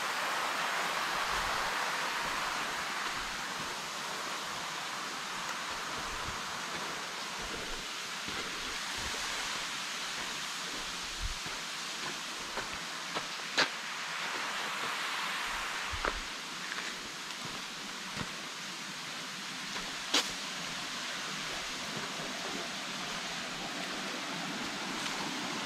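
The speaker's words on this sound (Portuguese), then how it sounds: "Quedas d'água aqui" Small waterfalls at Cachoeirinha on the Janela do Céu circuit in Ibitipoca pour in a steady, close rushing roar of water, with no one talking.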